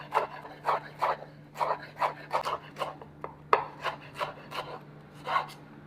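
A knife slices through sweet peppers on a cutting board in a steady series of crisp, close strokes, about a dozen cuts with brief pauses between them, over a quiet background hum.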